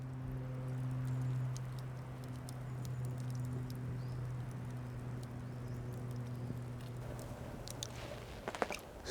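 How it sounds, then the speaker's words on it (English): Rain pattering on a tarp stretched over a campfire spot in a forest, a soft steady patter with a low hum beneath and a few sharper drops near the end. "Starting to rain again."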